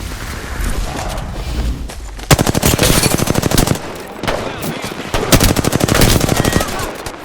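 Gunfire in Apex Legends, with rapid automatic bursts starting abruptly and returning in long sustained volleys, loud and close, separated by short gaps.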